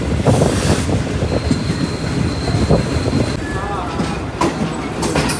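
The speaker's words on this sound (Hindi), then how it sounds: "ये ट्रेन वाया फैसलाबाद आ रही है खानेवाल जंक्शन पर" Shalimar Express passenger train rolling into Khanewal Junction, steady loud wheel rumble and clatter with brief squeals and a horn-like tone, heard from aboard with faint voices around.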